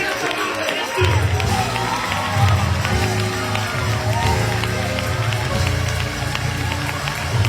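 Church congregation at a Christmas cantata clapping and cheering, a dense continuous crowd roar with rhythmic clapping, loud and close, with voices mixed in.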